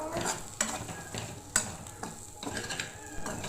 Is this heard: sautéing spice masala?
yes